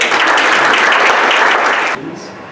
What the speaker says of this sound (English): Please give Lewis a huge round of applause.